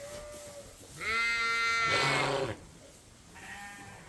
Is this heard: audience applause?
no